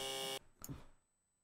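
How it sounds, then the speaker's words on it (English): A loud, harsh game show buzzer blares for a fraction of a second and cuts off abruptly, followed by a short fainter tone and quiet room noise. "Let me reset the buzzers."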